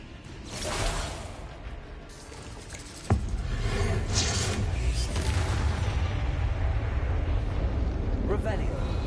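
Bombarda spell explosions in the Hogwarts Legacy video game: a sharp blast bursts out early, followed by a loud rushing, debris-filled roar that stays dense to the end, with a voice briefly over it.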